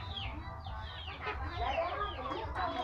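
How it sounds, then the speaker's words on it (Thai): Chickens cluck and chatter around a rural house beside rice fields in Phanom Thuan, with short overlapping calls over a steady low background hum, fairly close and moderately loud. "พามาเบิ่งขอไก่ขาวหน้าเนาะ"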